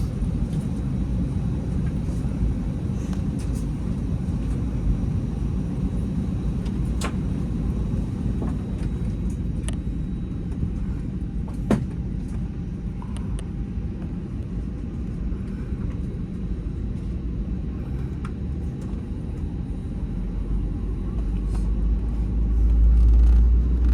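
Steady low engine rumble inside a British Airways aircraft cabin at cruising altitude on a London to Glasgow flight, continuous throughout and swelling slightly louder toward the end, with no talk.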